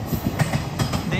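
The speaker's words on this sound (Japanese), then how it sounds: "あ、また電車だ" Train rolling past near a roadside outdoor museum in Nakama, Fukuoka, Japan, a loud steady rumble with rhythmic clickety-clack of wheels over rail joints, brief faint background voice.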